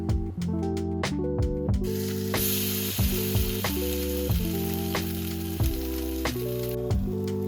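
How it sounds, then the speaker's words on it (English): French toast sizzles in a hot pan, a steady close hiss under prominent background music with plucked melodic notes. "If it doesn't sizzle like that, then your pan's not ready."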